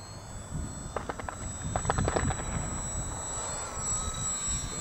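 An H-King Savage Bobber RC airplane comes in for a full flap landing on grass, its small electric motor whining steadily at a distance under outdoor wind noise, with a few brief clicking bursts along the way.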